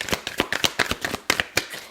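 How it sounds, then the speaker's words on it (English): Tarot cards shuffled by hand in a quick series of crisp riffling bursts and soft slaps, close and clear with no talking. "if you don't want to stick around for the shuffling"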